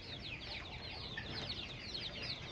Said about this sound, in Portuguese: Os mini pintinhos hoje.